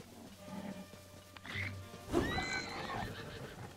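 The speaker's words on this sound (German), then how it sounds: "Hübsches Pferd, by the way." A horse neighs in The Legend of Zelda: Tears of the Kingdom, a clear whinny rising after a quiet stretch of game ambience and a few soft hoof sounds.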